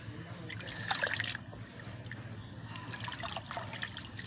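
Water poured onto rose plants in a garden, a soft, continuous trickle and splash heard faintly and close, with brief louder splashes, no talking.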